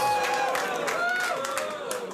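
Studio audience on Late Night with Conan O'Brien with Triple H as guest, a loud crowd roar with cheering and whooping, steady throughout and easing slightly at the end.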